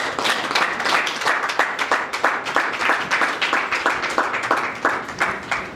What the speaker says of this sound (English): Please, a very resounding round of applause for Baba.